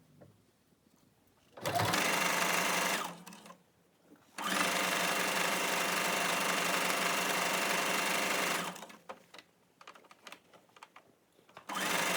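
A sewing machine stitches down a fold on a gray fabric bonnet mask in two loud, steady runs, the first brief and the second several seconds long, separated by a pause and followed by faint handling clicks and a final burst.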